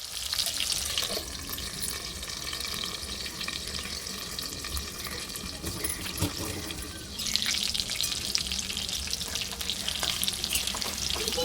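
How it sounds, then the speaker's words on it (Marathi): Whole brinjals cooking in oil in a pan give off a steady, close frying sizzle and hiss that runs throughout, growing a little louder and brighter partway through, with no talking. "ती वांगी अख्खीच त्या तेलामध्ये शिजण्यासाठी टाकून द्यायची"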